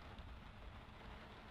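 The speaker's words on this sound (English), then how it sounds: "Rain." Rain falls steadily in the horror video game Layers of Fear, a soft, even wash of noise that holds constant throughout without any voices over it.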